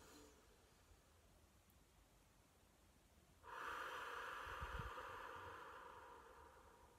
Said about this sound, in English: to have a deep breath in